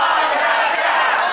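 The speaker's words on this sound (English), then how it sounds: "And the crowd reminding him of what happened last month in the War Chamber." Wrestling event crowd chanting at wrestler Todd Sexton, a dense, steady roar of many voices filling the arena, loud and continuous with no break.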